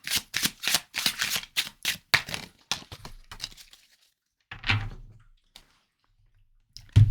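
A tarot deck being shuffled, a quick series of crisp riffling card flutters close by that slow and thin out, followed by a few scattered soft taps and near silence.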